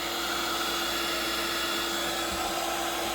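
Constant loud blowing whine of a heat gun softening the plastic blower tube of a Stihl BR600 backpack blower, steady and unbroken with a faint tap partway through.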